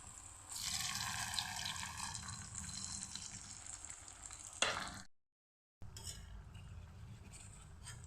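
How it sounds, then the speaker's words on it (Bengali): Raw banana dhoka, a Bengali vegetarian fritter, frying in hot oil in a kadai, with a steady close sizzle and bubbling throughout, a sharp louder burst near the middle, then a brief silent gap before the sizzling resumes. "এখন আমি কাঁচা কলার যে ধোকাটা আমি করেছি এটা ভেজে নেব।"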